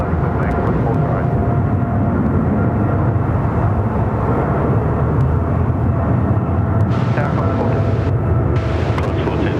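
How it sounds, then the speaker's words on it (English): A heavily loaded Singapore Airlines Boeing 777 departing Sydney Airport, a loud continuous broad jet roar filling the air at close range, with a voice talking intermittently over it. "those the Singapore 777s, they always go out nice and heavy"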